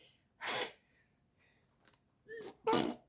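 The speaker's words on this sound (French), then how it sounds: "Je vais éternuer." A sharp sneeze bursts out loud and close, preceded by a quick inhaled gasp, then a second sneeze-like burst after a pause.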